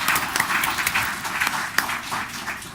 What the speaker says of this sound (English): Yes, they do deserve a round of applause.